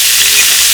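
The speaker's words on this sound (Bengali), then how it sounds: "মাছ ভাজা কত দূর? এই তো এক খোলা হয়েছে আর এক খোলা হচ্ছে।" Parshe fish frying in a pan, giving a loud, close, steady crackling sizzle that fills the short moment without any voices.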